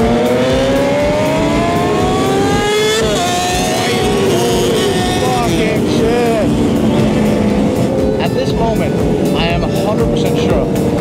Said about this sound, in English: there's so many exhausts that make so much noise, so I can't even hear my own bike